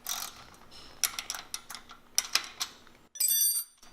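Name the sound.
wrenches loosening lock nut bolts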